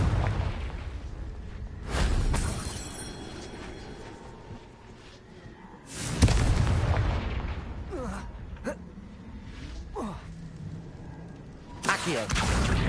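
Fire spell explosions in the video game Hogwarts Legacy, with several loud, rumbling bursts and crackling blasts at intervals amid game ambience and brief voice sounds.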